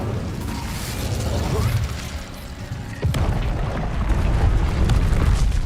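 An Incendio fire spell cast in the video game Hogwarts Legacy produces a sharp booming burst midway, followed by a louder, roaring rush of flame over busy game ambience.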